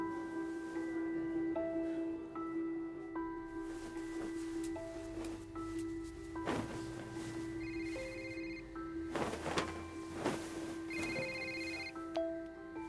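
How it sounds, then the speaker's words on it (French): A telephone rings through an unanswered call as a repeating electronic ringtone pattern over faint background sound. The ringing is moderately loud, and no one speaks. "Pourquoi Sophie ne répond pas au téléphone?"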